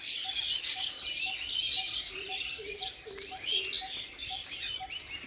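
Birds chirp and tweet continuously with short repeated calls in a tree, a busy chorus at moderate distance over faint background noise.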